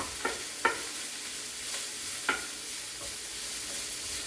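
Finely chopped garlic sizzles in a pan, a steady fry broken by a few sharp clicks of a utensil stirring it around.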